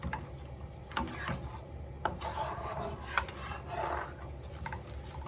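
A utensil scrapes and rubs against a hot skillet as flour browns for a roux, rasping strokes with a few sharp metallic knocks, close and moderately loud, no voices.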